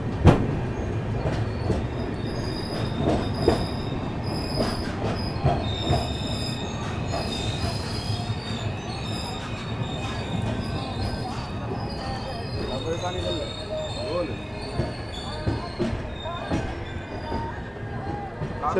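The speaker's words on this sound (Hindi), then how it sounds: "दोस्तों गाड़ी अपनी अराइव करती हुई बल्हारशाह रेलवे स्टेशन।" A Secunderabad-bound Duronto Express rolling into Balharshah railway station, wheels squealing and rails clattering steadily for the whole stretch, close and fairly loud, with voices faintly in the background.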